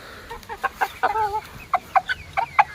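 Domestic chickens, grown hens among young birds, cluck in short repeated bursts, a few drawn-out calls between quick clucks, close and clear against a quiet background.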